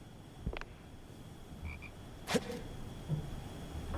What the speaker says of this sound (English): Frog is adorable.